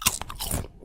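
Ripple potato chip bitten and chewed close up: a sharp, loud crunch followed by a few quick crackling crunches, with no talking.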